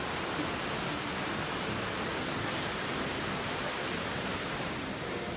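The Seven Sisters Waterfalls beside the mountain road from Gangtok to Lachen in Sikkim rush with a steady, even hiss of falling water, faint and unbroken throughout.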